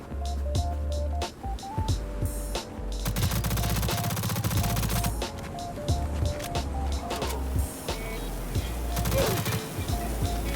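Submachine gun fire in the video game Stalcraft: repeated rapid bursts of shots over a steady game background with looping tones, sustained and loud across the whole stretch.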